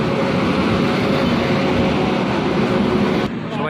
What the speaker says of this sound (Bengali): 1 ঘন্টা অপেক্ষা করার পর আমাদের ট্রেন চলে আসলো।